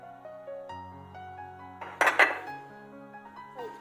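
Utensil clinking against a bowl while egg and spring onion are mixed, a brief scraping burst in the middle over a steady background hum with sustained tones.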